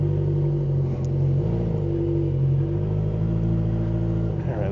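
Motorcycle engine in a parking lot as the rider lets the clutch out, a steady low rumble that shifts pitch slightly as the bike moves off, close and continuous.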